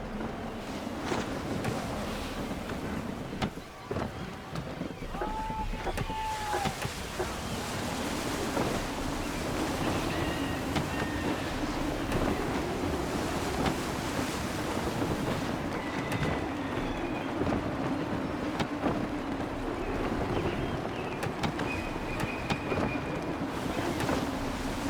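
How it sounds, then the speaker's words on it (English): Wind and ocean waves while sailing a ship in Assassin's Creed III, a continuous loud rushing wash with steady low rumble and occasional creaks and faint tonal cues over nearly half a minute. "Wind looks to be shifting. Stay alert, Connor. Gusty winds can be difficult to manage."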